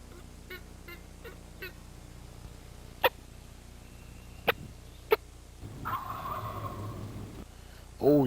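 A wild turkey gobbles in the distance at a hunting spot outdoors, a few short sharp calls standing out against quiet woods, with rustling and louder handling noise near the end.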